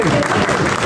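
Audience applause at a traders' association oath ceremony in Kohati Bazar, Rawalpindi, with brief, loud, close clapping from the crowd that is mixed with an announcer's voice throughout.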